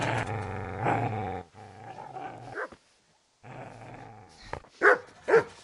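A dog growls and barks in a medieval Bohemian village setting from the game Kingdom Come: Deliverance, with a sustained low growl, a short silence, then sharp close barks near the end.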